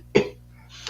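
Woman coughing in a played-back video, one sharp, close cough followed by a fainter breathy sound a moment later.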